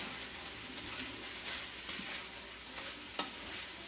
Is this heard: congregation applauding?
no